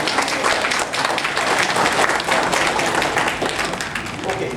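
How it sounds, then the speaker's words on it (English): A round of applause from an audience at a land professionals' presentation session, many hands clapping in a dense, loud, steady patter that continues without break. "could we give a round of applause to Ms."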